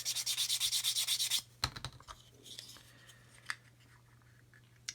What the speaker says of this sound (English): I'm actually biasing the sanding stick to this side.